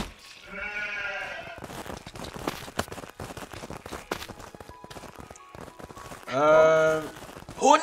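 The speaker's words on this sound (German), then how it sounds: "Hier sind schon wieder Schafe drinne." Sheep in the video game Craftopia bleat twice, one near the start and a louder one near the end, separated by scattered clopping and rustling game sounds.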